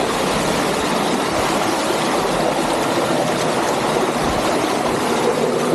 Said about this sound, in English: Now here's a view of the nice little brook that runs down into the pool.